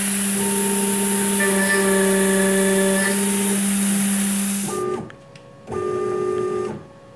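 A CNC mill with an ATC spindle cuts at 1.5 thou per tooth, a loud steady tonal whine with shifting pitches that drops off abruptly, then a brief second burst of cutting.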